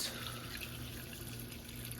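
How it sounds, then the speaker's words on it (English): Water pours from a container into a cooking pot of green chile with diced tomatoes, a steady splashing, gurgling stream heard close and alone throughout. "I add some water."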